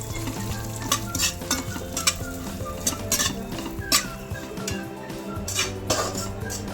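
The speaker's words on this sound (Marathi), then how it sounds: "हे भाजून घेतोय, काजू, बेदाणे आणि खोबरं आपण हे सगळे आपण एकत्रच भाजणार" Cashews, raisins and coconut roast together in a pan, stirred with steady, repeated spatula scrapes and clinks over a soft, constant sizzle, close and moderately loud.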